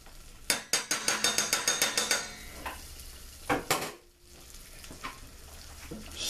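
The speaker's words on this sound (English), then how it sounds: "you're gonna stir that in until the color of the flour changes" Flour is stirred into a sizzling pan for a cheddar cheese sauce, a utensil clacking against the metal in a quick run of about a dozen sharp strokes, then a few scattered scrapes over a soft, steady sizzle.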